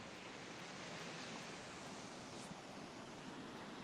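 Steady ocean surf at San Bartolo Beach in Lima, Peru, a continuous broad wash of breaking waves at moderate distance with no pauses or voices.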